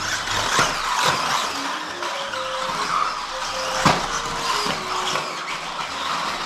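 A cheap, grippy radio-controlled car drives and turns sharply, its small motor whining steadily while repeated short tire squeals and skids sound nearby.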